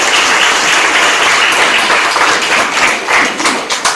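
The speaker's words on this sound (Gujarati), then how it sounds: "ગ્રીષાબેન માટે ખૂબ તાળીઓ પાડો" Female students at a Class 10 and 12 education seminar in Junagadh break into a dense, steady round of applause that fills the whole moment at close range, with no talk over it.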